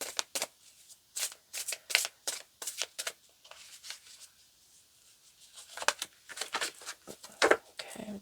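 A deck of oracle cards riffled and shuffled in quick, close flapping bursts, a rhythmic papery patter that pauses briefly midway before resuming.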